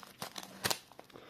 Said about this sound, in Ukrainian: Відкриваю я пакет.